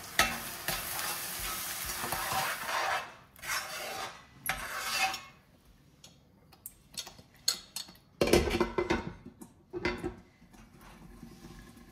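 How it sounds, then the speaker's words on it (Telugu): Mashed paste frying and being stirred in a pan with ginger-garlic paste, ahead of adding fish pieces for a seafood pulusu; bursts of sizzling and scraping strokes come and go, loud and close, with quieter gaps between. "ఇప్పుడు మనం మ్యాష్ చేసుకున్న పేస్ట్ని వేయాలి."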